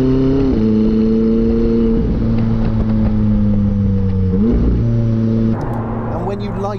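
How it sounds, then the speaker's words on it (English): McLaren 675LT supercar engine pulling hard through the gears, a loud close steady drone stepping up in pitch with brief shift dips, the twin turbos spooling; voices talk faintly underneath. "when you light up the turbos like we just did there, I mean, just the absolute surge of power that you get"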